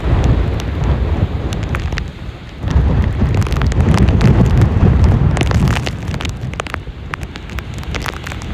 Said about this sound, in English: Those counterclockwise motion of the wind's really pushing that water.